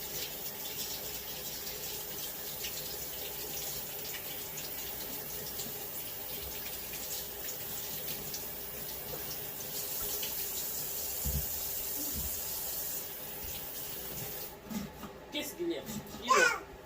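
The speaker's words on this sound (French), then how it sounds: "Et puis, je vais laver, je vais mettre de l'eau." A kitchen tap runs while food is washed at the sink, a steady soft hiss of flowing water under nearby talk from an adult and a child, with some louder splashes near the end.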